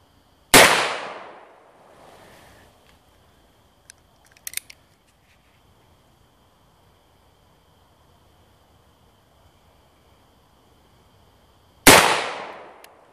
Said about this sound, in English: Now this thing you gotta hold on to. We'll be shooting at the can.